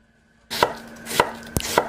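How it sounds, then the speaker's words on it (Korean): Vegetables chopped with a knife on a board, three or four sharp, evenly spaced chops close up after a moment of near silence. "깻잎이 절여지는 동안 야채를 썰어줍니다"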